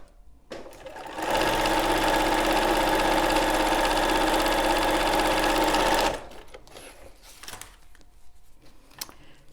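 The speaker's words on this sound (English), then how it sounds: "So now I'm going to sew the next seam line." A sewing machine stitches a seam for paper piecing, running in one steady, loud whirring burst of about five seconds before stopping, with quieter handling noises before and after.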